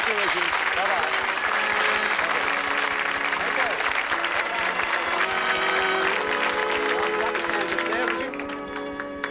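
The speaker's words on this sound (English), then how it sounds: "Give them a round of applause," Studio audience on a 1979 TV game show applauds loudly and steadily, a dense wash of clapping that holds for most of the stretch, with a host talking over it and music entering as it fades near the end.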